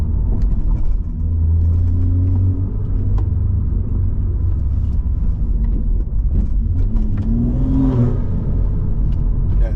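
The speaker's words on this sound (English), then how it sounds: "Intake sounds good, Dan." A tuned Stage 2+ BMW M140i engine rumbles loudly and continuously nearby, rising in pitch as it revs, with a faint turbo whistling whoosh near the end.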